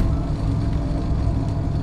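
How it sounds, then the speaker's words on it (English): A car engine idles steadily in the horror game Fears to Fathom: Carson House, a loud, continuous low rumble with no break or change in pitch. "Your car is loud."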